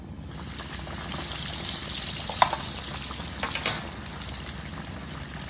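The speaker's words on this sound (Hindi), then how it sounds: "और मैं डीप फ्राई करूंगी।" Garlic-butter-stuffed chicken Kiev breasts deep fry in hot oil over a medium flame, giving a steady, loud bubbling hiss with scattered crackles and pops close by.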